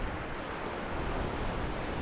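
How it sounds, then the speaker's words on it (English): Steady broadband surf wash from waves breaking at a Florida surf beach, a continuous even roar with light wind noise and no voices. "They look like such fun waves"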